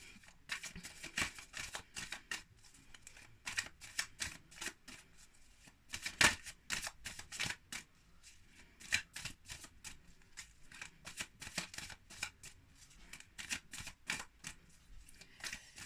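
Tarot cards shuffled by hand for a reading, a continuous run of quick papery riffles and soft slaps, close and fairly quiet, no talk over it.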